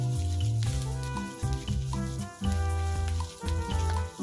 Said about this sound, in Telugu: దూరగా బ్రౌన్ కలర్ వచ్చేంత వరకు, ఆనియన్స్ బ్రౌన్ కలర్ వచ్చేంత వరకు వేయించుకోవాలి.